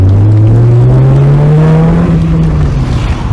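A Peugeot 306 GTR engine revs hard and loud, its note climbing steadily then easing back down in one long sustained pull, with no voices over it.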